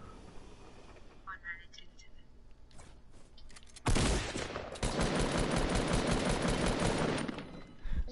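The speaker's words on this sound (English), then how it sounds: "Is there someone shooting at you, Tyler?" Gunfire in a PS4 multiplayer shooter: faint scattered shots at first, then a loud sustained burst of rapid automatic fire that runs for several seconds, with players talking over the game.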